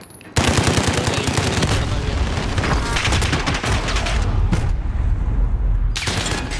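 Dense automatic gunfire from Call of Duty Modern Warfare multiplayer erupts suddenly and keeps up as rapid, loud bursts with booming impacts, pausing briefly near the end before resuming.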